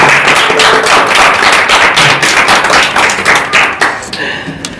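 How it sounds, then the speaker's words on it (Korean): A church congregation at a Sunday worship service claps in encouragement, a dense burst of hand claps that carries on steadily and then trails off, with some voices mixed in underneath. "우리 기도하는 마음으로 응원의 박수를 한번"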